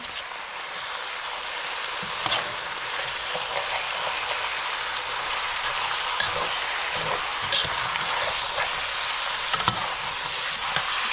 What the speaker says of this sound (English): Just a little stir.